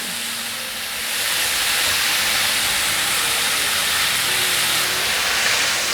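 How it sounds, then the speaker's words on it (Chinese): Tomatoes stir-frying with softened cabbage in a pan give a steady, loud, broadband sizzle and hiss that swells after the first second and holds evenly with no talking. "现在放入番茄， 把番茄炒软"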